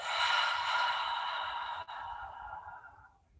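A long, deep exhale during a yoga session, a breathy, airy rush heard close up that holds steady and then tapers off gradually into silence, with no voices.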